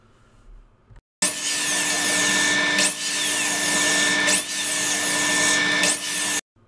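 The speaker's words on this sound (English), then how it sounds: "I took some 1/8 inch plywood and cut it down to 10-inch wide pieces." A power tool rips through 1/8 inch plywood, a loud, close, steady whining cut lasting several seconds with brief dips in pitch as the blade bites, then stops abruptly.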